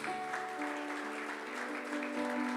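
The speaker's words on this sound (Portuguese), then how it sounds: "Dê um aplauso ao Senhor Jesus." A church congregation claps together at a Sunday service, a steady, fairly faint patter of many hands running throughout, with sustained musical tones held underneath.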